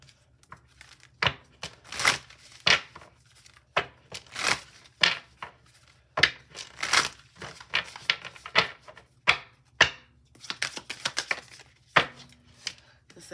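Tarot cards being shuffled by hand, a string of quick papery riffles and slaps in uneven bursts, fairly close and moderately loud, with short pauses between handfuls.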